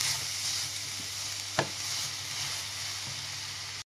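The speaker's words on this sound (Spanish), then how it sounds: "Y vamos a ir removiendo hasta crear una bechamel." Mint-infused milk is stirred into a béchamel sauce in a hot pan, giving a constant sizzling hiss with a single sharp tap of the utensil against the pan.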